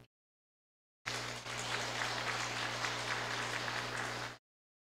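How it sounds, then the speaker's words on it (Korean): During a Korean Baptist Sunday service, the congregation claps in encouragement for a family. The applause is a dense, even wash of many hands that starts abruptly, lasts about three seconds and cuts off sharply over a low electrical hum. "격려의 박수 치도록 하겠습니다"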